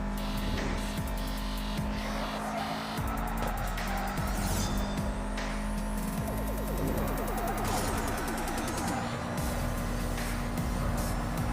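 Cars roar through a race in the Need for Speed mobile game, engines droning steadily with tire squeals and skids cutting in over a continuous loud backdrop.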